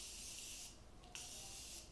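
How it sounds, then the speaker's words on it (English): Morphe Continuous Setting Spray misted onto a face, a soft close hiss in two short bursts with a brief pause between them. "I'm going to spray my face with the Morphine Continuous Setting Spray"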